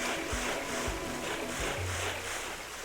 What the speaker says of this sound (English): Hey, look, here's a waterfall.